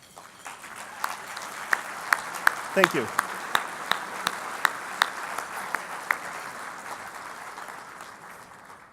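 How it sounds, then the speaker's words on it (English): Audience applause for a team at a technology hall of fame awards ceremony, steady crowd clapping with sharp individual claps standing out, while a voice speaks briefly over it. "Please, let's give this entire team a round of applause."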